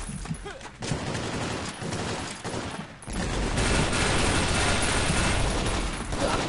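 Rapid rocket fire from an M202A1 launcher in the online shooter Warrock, a dense, loud run of blasts and gunfire-like bursts that swells after a brief dip and continues steadily to the end.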